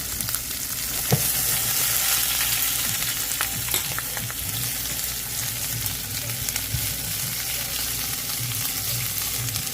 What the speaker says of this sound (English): I'm gonna just saute it a little bit